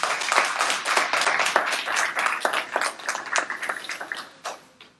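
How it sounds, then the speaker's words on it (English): A live audience at a town hall discussion event claps steadily for a few seconds, a dense, close patter of many hands that thins out and fades toward the end. "a round of applause for Andre Polite"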